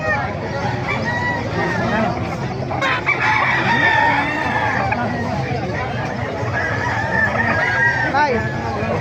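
Gamefowl roosters of Sweater and Kelso breeds crow amid clucking and background chatter in a busy yard, someone talking over the birds.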